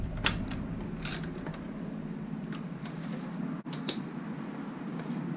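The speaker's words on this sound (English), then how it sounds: "We're just going to snug these bolts down now." A hand ratchet snugs down bolts on a GY6 scooter during a rear tire change. It gives quiet, close ticking clicks in short irregular bursts over a low background hum, with no talk.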